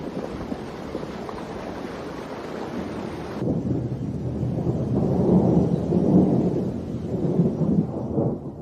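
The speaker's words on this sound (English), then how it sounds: "Thunderstorms." Rolling thunder with steady rain and gusting wind during a storm-season thunderstorm, a continuous loud rumble that swells and deepens in the second half, with no voices.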